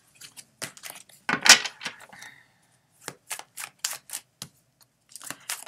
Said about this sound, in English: what I do is I shuffle till one card falls out